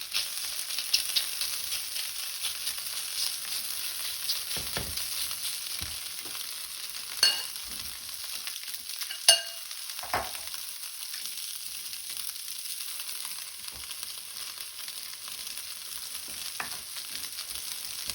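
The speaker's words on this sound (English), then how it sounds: "I'm gonna basically just let it sear." A breaded Wiener schnitzel sears in hot oil over high heat, making a continuous soft frying hiss with a few sharper pops and crackles scattered through it, with no voices.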